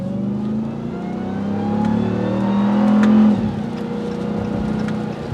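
A supercharged 6.2-liter V8 Hemi in a 2022 Ram TRX pulls hard on a wet road, its engine note swelling and rising steadily before easing off, close and loud with no talking.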